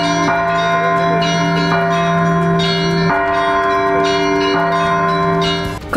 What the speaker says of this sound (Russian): Самые тяжелые колокола – два благовестника весом 820 и 450 килограмм.